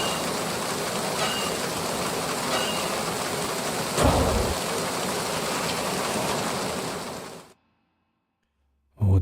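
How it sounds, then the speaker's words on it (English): Loud, steady rain pours in Metal Gear Solid 2, a dense unbroken hiss with a low rumble and a brief heavier surge midway, then it cuts off abruptly into silence before a short final burst. "Oh, the rain is so loud."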